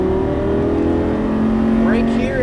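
Lamborghini Superleggera at full throttle on a racetrack, its engine a loud sustained roar rising in pitch from close by, with a voice speaking over it.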